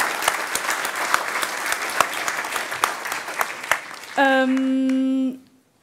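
Audience applause at a tech conference talk on domain-driven design, dense steady clapping from a crowd for several seconds, then a sustained electronic tone cuts in briefly before silence.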